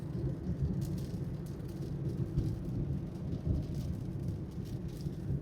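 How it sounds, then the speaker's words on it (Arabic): Heavy rain gusts over a street in Baghdad, a steady dense hiss of falling rain with low rumbling beneath, no talking. "هاي هبة المطر."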